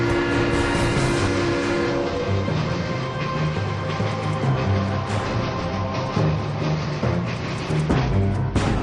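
Passenger train carriage interior with a continuous loud rumble and steady rolling rail noise throughout, no voices, only faint mechanical clanks and rattles.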